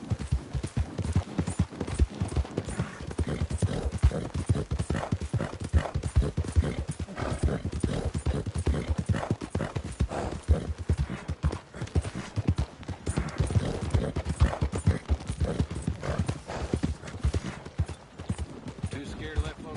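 Horse hooves pound in a steady rapid gallop throughout a Red Dead Redemption ride, a man urging the mount on over the rhythmic clopping.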